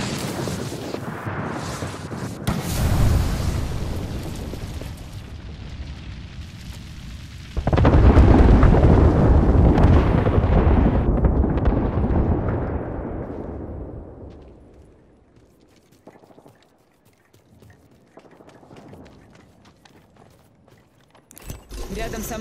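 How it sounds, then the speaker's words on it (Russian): Artillery strike explosions in the video game Apex Legends rumble and boom in heavy rolling waves, a big blast swelling then fading into quiet before another impact. "Артиллерийский удар по моей команде."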